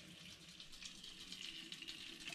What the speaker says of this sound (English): So as I'm siphoning into this plastic water bottle